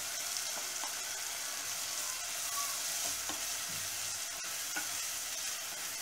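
Chopped onions sizzle steadily in hot oil in a pan, a continuous close frying hiss with occasional soft stirring.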